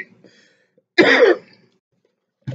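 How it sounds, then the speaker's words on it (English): A single short, harsh cough or throat clear from one person, close and fairly loud, between quiet gaps, with a faint breathy sound just before and the start of another at the very end. "Excuse my coughing."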